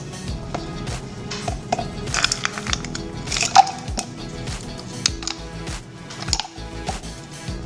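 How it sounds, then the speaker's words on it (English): Ice cubes drop into a homemade Starbucks-style iced drink, a run of sharp clinks and cracks scattered over several seconds, close and moderately loud with no talking. "Okay, then we just add our ice."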